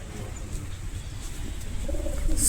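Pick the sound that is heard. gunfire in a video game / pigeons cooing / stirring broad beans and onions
pigeons cooing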